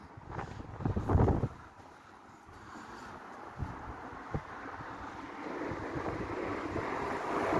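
Waves roll and wash near Kincardine Bridge, a soft, low surf under steady wind buffeting the microphone, with a louder gust-like surge near the start and a few faint knocks.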